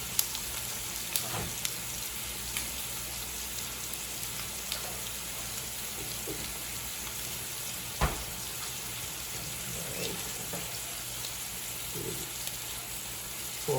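A pork chop sizzles and fries in a pan over an open fire, a steady close crackling hiss with small pops and occasional louder spits, with no one talking.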